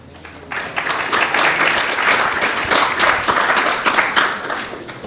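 A room of listeners at a Sunday feast class for Diwali and Govardhan Puja breaks into steady, dense applause that swells quickly and holds, loud and continuous with no speech over it.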